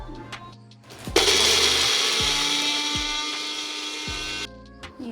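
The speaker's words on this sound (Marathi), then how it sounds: "इथे याला पण मिक्सरमध्ये लावून घ्यायचं आहे बारीक करून" A kitchen mixer grinding chillies, garlic, ginger and coriander to a coarse paste, a loud, high whirring motor that starts abruptly, runs for about three seconds and cuts off, with quiet clatter before and after.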